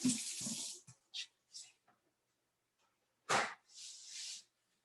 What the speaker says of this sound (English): let me wash up my knife here.